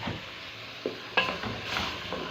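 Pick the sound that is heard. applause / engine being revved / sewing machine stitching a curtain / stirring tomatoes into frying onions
stirring tomatoes into frying onions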